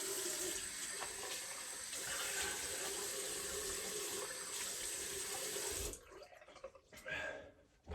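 A tap runs steadily into a sink as alum is rinsed off a face after shaving, a continuous close hiss of water that breaks off near the end into a few splashes.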